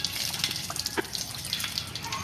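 Water running steadily from a tap during washing for ablution, a close continuous splashing stream with small drips and hand movements, no talk.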